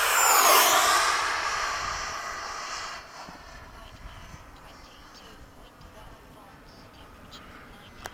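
Radio-controlled Freewing 90mm EDF F-22 jet flying a big loop at dusk, its ducted-fan whoosh loud at first, then fading and thinning into the distance.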